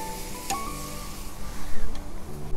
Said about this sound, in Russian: сейчас будем жарить уже наши ножки